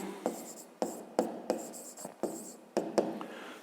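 A pen or pencil writing out a math solution on paper, in short scratchy strokes with brief pauses between them, close and quiet.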